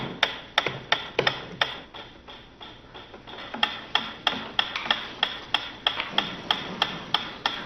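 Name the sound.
ticking metronome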